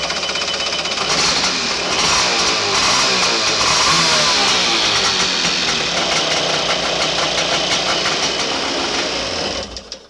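A 1989 Kawasaki SX 650 stand-up jet ski engine, just fixed after a carburetor cleaning, runs loud and close with a rapid, rattling two-stroke buzz that holds steady for several seconds before sputtering out.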